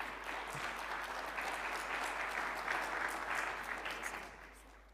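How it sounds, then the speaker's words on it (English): Audience applause at a tech summit, a dense, steady wash of clapping hands that holds and then fades near the end, with no talking. "A big round of applause, ladies and gentlemen, to Mr. Ed Schlesinger."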